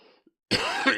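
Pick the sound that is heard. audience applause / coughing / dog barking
coughing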